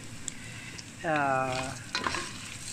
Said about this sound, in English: we have to cover all the rice with this fat.